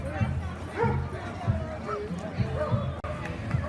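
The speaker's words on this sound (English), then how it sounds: "These are Airedale Terriers." Airedale Terriers bark in short repeated woofs at a Christmas parade, amid crowd chatter and a person talking close by.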